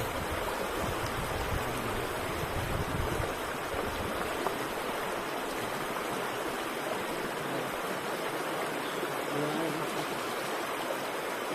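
Steady rushing of a clear flowing stream over rocks, continuous and full throughout, with no pauses, close by and fairly loud.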